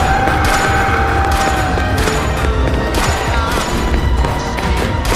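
Gunfire in a horror story, with police shooting at crowds: a dense, loud, continuous fusillade of overlapping shots and booms under a constant roar, with no talk.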